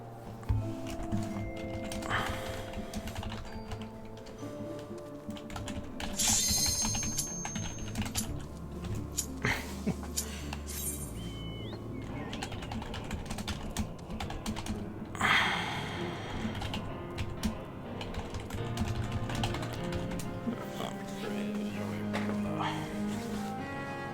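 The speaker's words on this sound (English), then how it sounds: "Here's a keyboard." Typing on a computer keyboard during a Final Fantasy XIV: Stormblood gaming session, with a steady patter of keystrokes under game music and sound effects throughout.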